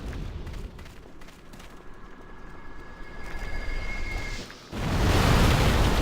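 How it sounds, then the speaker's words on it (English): Big explosions in the video game Demon's Souls: a rumbling, crackling backdrop with faint tones gives way near the end to a sudden loud, roaring blast that keeps going to the end. "Those explosions are big."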